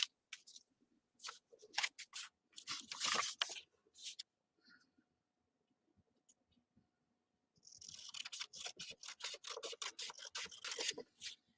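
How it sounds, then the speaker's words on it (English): Scissors cutting out a small paper template: clusters of crisp snipping strokes close by, a quiet pause in the middle, then a faster steady run of cuts. "So all I'm doing is cutting out my little template."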